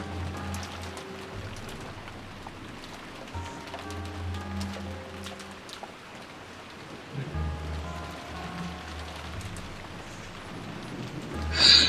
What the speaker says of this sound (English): We can't do anything except pass the time listening to the sound of the rain until tomorrow morning.